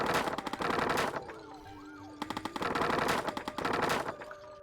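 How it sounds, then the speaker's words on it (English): A boat-mounted machine gun turret in The Alters fires two loud sustained bursts of rapid shots, separated by a short pause with a rising electronic tone. "Maneuver the ship and let the turret attack the targets."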